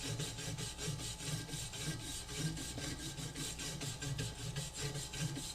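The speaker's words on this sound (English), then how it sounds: "we'll just brush off a portion of this leaf spring to make sure that we don't have any loose particles on there" A brush scrubs rhythmically over a rusty metal leaf spring, knocking off loose rust particles in steady, rapid back-and-forth strokes, close and moderately loud with no talking.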